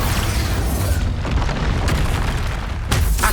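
Loud booming spell blast from the Expulso explosion spell in Hogwarts Legacy, a dense continuous roar of detonation with a fresh burst near the end, no talking.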